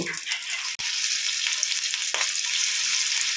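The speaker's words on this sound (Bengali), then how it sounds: "এবার আমি এই বলগুলোকে ফ্রাই করব" Oil sizzles and crackles loudly and steadily as fish balls fry, with two brief clinks or stirring knocks in the pan.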